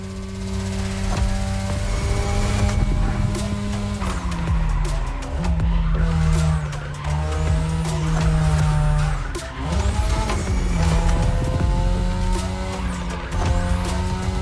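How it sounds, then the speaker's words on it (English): Third-generation 2002 Mazda RX-7 with a rotary engine racing in a video game, its high buzzing engine note loud and continuous as revs rise and fall through gear shifts, with tire squeal and skidding mixed in. "Tonight, your ride is a 3rd Gen 2002 Mazda RX-7. Lightweight, compact, a sick rotary engine, and one hell of a look."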